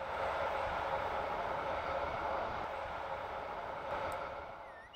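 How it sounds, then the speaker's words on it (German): A Rhaetian Railway Ge 4/4 locomotive, number 624, running toward Klosters east of Malans, heard as a fairly faint, steady rumble that eases toward the end, cut off by a short sharp noise at the close. "In Richtung Klosters braust kurz vor 19 Uhr die Lok 624 östlich von Malanz vorbei."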